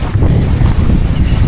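Cool wind buffeting the microphone near a rocky river at Angat Dam, a steady loud rumbling gust with no pause and no voices.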